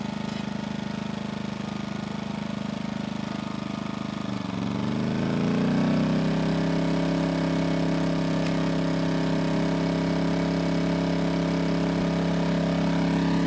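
An Erayak 2400W inverter generator engine hums steadily, then its pitch shifts and settles into a lower, heavier drone as load comes on, continuing evenly.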